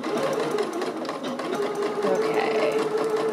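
Sewing machine top stitching the elastic waistband casing of a Lou Box Dress, a steady close whirring hum that runs continuously with a faint rhythmic needle tick throughout.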